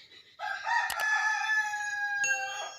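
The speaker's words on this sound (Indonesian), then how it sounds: "banyak suara ayam, suara burung, karena memang tinggalnya di tengah sawah ya teman-teman" Rooster crowing once near rice fields, a single loud drawn-out call rising and then trailing off, with a couple of sharp clicks and a quiet background.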